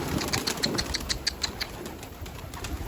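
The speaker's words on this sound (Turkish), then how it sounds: "Kuşlar burada" Pigeons in a grandfather's coop flap their wings in quick close bursts, the fluttering beats rising and falling over a low background rumble.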